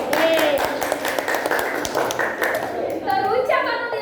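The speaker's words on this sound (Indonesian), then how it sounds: "kita berikan tepuk tangan dulu untuk temannya kami yang sudah punya tujuan" A classroom audience claps for a classmate, a crisp patter of hands spread across the room, mixed with voices and cheering that rise toward the end.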